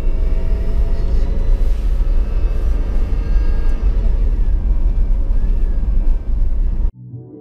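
Car on studded tires driving on a frozen lake road, a loud steady rumble of engine and tire noise that cuts off abruptly near the end.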